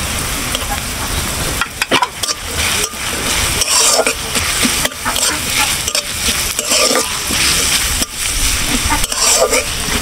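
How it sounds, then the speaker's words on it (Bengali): Chopped garlic and ginger hit hot oil with frying onions, crackling in a loud, dense sizzle while a spoon scrapes and stirs the pan in repeated strokes. "বন্ধুরা, এখন দিয়ে দেব রসুন আর আদা কুচি।"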